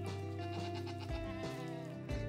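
Goats from a herd used to clear vegetation bleat in a few loud, wavering cries, close by, with no talk over them.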